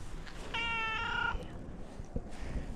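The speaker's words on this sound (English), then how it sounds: "You got a real distinct meow about you" A cat gives a single clear, drawn-out meow close by, rising and holding steady for under a second against a quiet room background.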